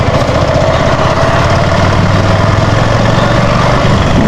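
A motorcycle engine runs steadily on a night ride, a loud, close, continuous low drone with an even throbbing pulse and no speech.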